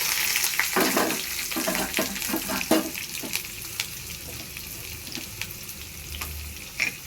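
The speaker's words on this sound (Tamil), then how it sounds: "பூண்டு, பச்சை மிளகாய் 2, பூண்டு ஒரு 4 பல் போட்டு நல்லா வதக்கணும்." Onions, garlic cloves and green chillies sautéing in a pan: steady soft sizzle with scattered clinks and scrapes of stirring, at moderate level throughout, no voices.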